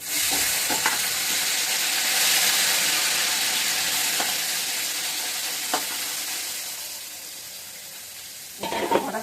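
Fried vegetables are tipped into a pot of khichuri on a home stove and sizzle in a loud, steady hiss of frying, broken by a few sharp clinks and scrapes of a spoon against the pot.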